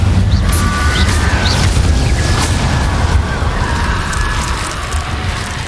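An Incendio fire spell erupts in a Harry Potter video game, a loud, sustained fiery whoosh and deep rumbling blast lasting several seconds and fading slightly at the end.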